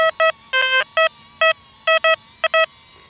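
An XP ICON X metal detector sounding off over a target on sand, with a series of short, clean electronic beeps in uneven pairs and singles, loud and close against a quiet background.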